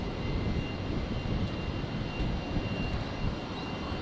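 A Qantas jet arriving from Melbourne touches down at Brisbane Airport, a dense, even engine roar sustained without pause, moderately distant, with no talk.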